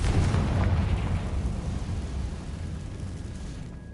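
A Confringo fire spell explosion in Hogwarts Legacy, a deep booming burst that rumbles loudly at first and slowly fades over several seconds.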